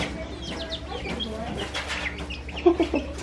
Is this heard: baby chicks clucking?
yes